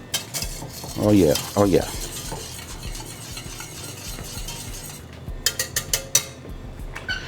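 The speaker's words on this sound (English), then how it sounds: "we're going to do some parsley and thyme. Let's get that mixed all in." A spoon stirs parsley and thyme into a sizzling chicken pot pie filling in a pot, with a few scraping bursts early and quick metallic clinks near the end, under a brief spoken exclamation.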